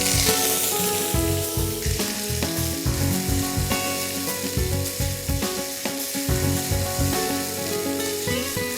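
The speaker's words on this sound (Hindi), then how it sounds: "प्याज को हमने दोस्तों तब तक पकाना है जब तक कि ये ब्राउन ना हो जाए" Grated onions frying in a pan for chicken curry, a loud continuous sizzle with bursts of stirring and scraping throughout.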